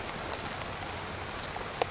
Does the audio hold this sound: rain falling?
yes